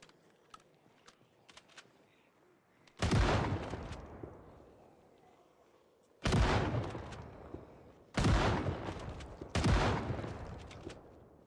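Gunfire in a zombie survival video game set in Louisville: four loud booming shots spaced a few seconds apart, each with a long decaying tail, with faint keyboard clicks in the quieter gaps.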